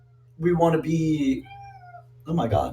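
A cat meows outside a window, a single drawn-out tonal meow heard faintly between bursts of close talking.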